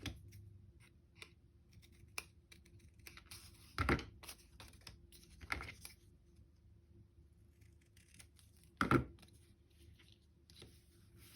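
Scissors cut paper for a handmade journal card, a few quiet crisp snips spread out with pauses between, faint and close in an otherwise quiet room.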